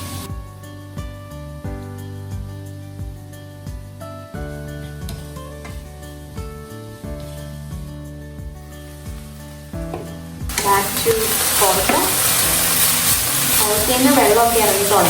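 Ivy gourd frying in a pan with curry leaves and chilli flakes sizzles up loudly near the end. Music plays before the frying gets louder, and there is no clear talking.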